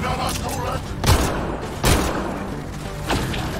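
Gunfire with incendiary ammo in the video game Mass Effect Andromeda: a few heavy booming shots around the one-, two- and three-second marks over a constant murky game backdrop.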